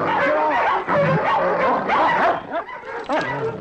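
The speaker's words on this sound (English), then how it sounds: "He's one mean dog, that Spitz" Sled dogs scuffle in a fight, snarling, yelping and barking in rapid bursts, loud and close, with excited shouting mixed in.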